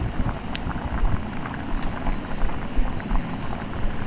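Carrot halwa cooking in milk simmers in a covered pan, a soft, continuous bubbling hiss with scattered faint pops and ticks, steady and close.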